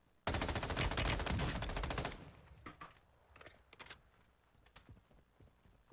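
A loud, rapid burst of automatic gunfire in a video game lasts about two seconds, followed by a few scattered single shots and faint clicks in a quieter stretch.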